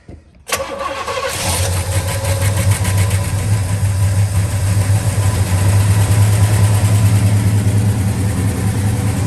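A rebuilt engine in a 1968 Pontiac GTO cranks and catches, then settles into a loud, steady rumbling idle that stays close and continuous.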